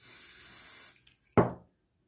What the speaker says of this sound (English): Same amount of spray.